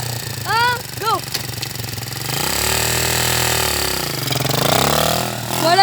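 A motorcycle pulls away slowly as a beginner rider makes a first start, its engine note rising and falling unevenly at close range, with brief voices and chirpy sounds early on.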